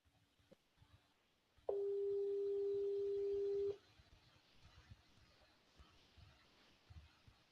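One steady electronic telephone tone sounds for about two seconds during a call attempt, loud and unbroken, with faint background noise before and after.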